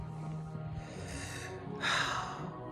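Close, heavy breathing right against the microphone, a steady rasp ending in a louder sharp exhale or snort.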